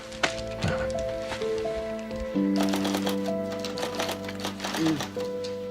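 Brisk typing on a typewriter, uneven clacking keystrokes in bursts set against a steady background tone, close and fairly loud.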